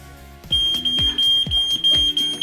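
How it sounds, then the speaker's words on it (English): A smoke alarm beeps with a steady high-pitched tone over rhythmic thumping music, loud and close. "The smoke alarm is going off."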